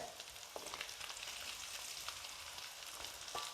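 Chicken fries in a pan for a curry, a soft continuous sizzle and crackle with scattered pops and a few light stirring scrapes, heard fairly faint with no talking.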